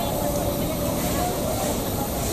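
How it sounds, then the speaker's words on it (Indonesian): Lodaya Pagi passenger train running through Nagreg station without stopping, a steady, loud rumble with a constant roar and no break. "Kereta api Lodaya Pagi persiapan masuk stasiun Nagreg dan melintas langsung ya menuju tujuan akhir stasiun Solo Balapan."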